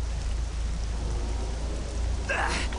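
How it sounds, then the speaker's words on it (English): Steady, dense rain hisses throughout with a low rumble beneath, and a brief brighter burst near the end, in the video game Jedi Knight: Jedi Academy. "This rain's like acid."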